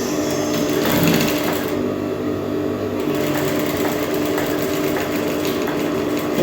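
An electric sewing machine stitches a skirt seam, giving a steady, loud, close whirring hum with fast needle ticking that runs continuously, briefly easing in tone partway through.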